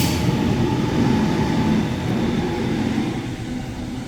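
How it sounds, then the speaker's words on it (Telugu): A Sydney double-decker passenger train rolls past close by, a loud, continuous low rumble of wheels and carriages with faint rail clatter and no voices. "డబుల్ డెక్కర్ ట్రైన్ అన్నమాట."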